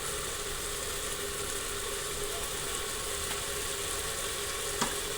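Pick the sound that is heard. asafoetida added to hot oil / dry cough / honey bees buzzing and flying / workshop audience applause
asafoetida added to hot oil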